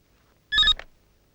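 A telephone gives one short electronic ring burst, clear and close, in a quiet room during a Telugu comedy film scene, then stops.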